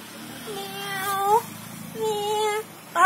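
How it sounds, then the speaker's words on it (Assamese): Cat meowing close by in two drawn-out, rising-and-falling calls with a short third cry starting at the end, steady low background hum underneath. "মেকাৰী"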